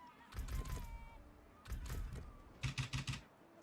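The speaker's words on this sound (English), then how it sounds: "Can you hear my keyboard? Let's test it." Keys clatter on a computer keyboard in three quick bursts of typing, close and fairly quiet, with faint background sound between the bursts.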